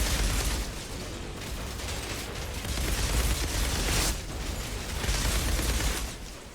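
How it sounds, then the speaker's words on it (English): A large explosion goes off in the sci-fi shooter Outriders, its dense blast and rumbling debris swelling and fading in waves amid continuous game noise, with no talking. "that explosion's larger than I thought"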